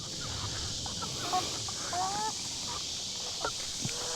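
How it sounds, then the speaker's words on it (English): Chickens in a backyard give soft, scattered clucks and short calls over a steady background hiss, the calls coming near and irregularly with no clear talking. "it's okay to have chickens in here because they'll eat all the bugs and stuff"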